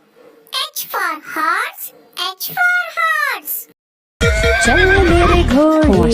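Cartoon-style horse neighing in a children's phonics song, whinnies with harmonic sweeps twice over the first four seconds, then cutting into loud music after a short gap.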